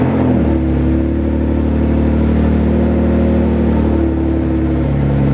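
Twin-turbo Dodge Stealth idling and revving through a straight-pipe exhaust with the muffler deleted, a loud, steady low drone with rising revs, close to the microphone, no voices.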